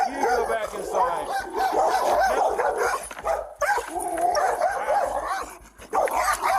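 A dog barks and yelps repeatedly at a police officer at a doorway, sharp bursts mixed with shouting and raised voices.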